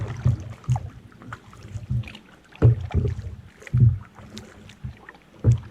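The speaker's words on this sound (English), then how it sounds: "Just paddling around looking for spots." A canoe is paddled on the Cedar Crow River in Algonquin near rapids, with regular rhythmic paddle strokes splashing and knocking close by over a steady wash of moving water.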